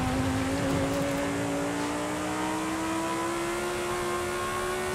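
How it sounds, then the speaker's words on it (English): A V10 engine in Forza Horizon 5 revs high and hard, a loud, continuous rising whine climbing steadily through the clip with no talk over it. "This V10 loves to rev."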